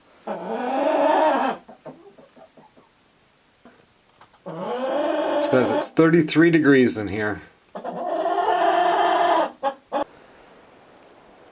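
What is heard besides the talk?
chickens squawking in a farmhouse coop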